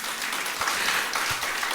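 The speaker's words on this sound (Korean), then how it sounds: "우리 하나님 영광의 박수." Congregation applauding during a Korean Protestant Sunday worship service in a large church, a steady wash of many hands clapping throughout, fairly loud and sustained with no talk over it.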